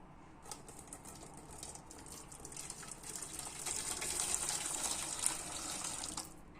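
Boiling water poured from a kettle into a pot for cooking noodles, a steady hissing, splashing stream that builds in intensity over several seconds, close and alone with no talking.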